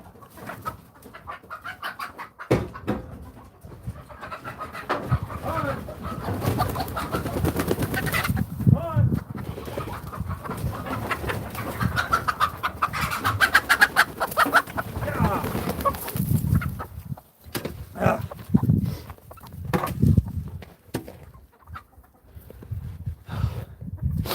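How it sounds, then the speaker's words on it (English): Chickens cluck and murmur in a coop on a South Dakota farm, a busy, near chorus of fowl calls rising and falling, with a person talking intermittently among them. "Those chickens need to get outside while they can, while it's nice."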